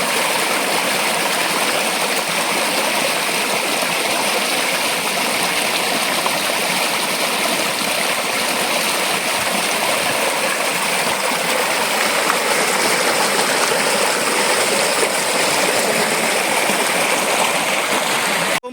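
A rocky stream at a picnic spot near Kolkata flows in a loud, steady rush of water over stones, continuous and close for the whole stretch with no voices.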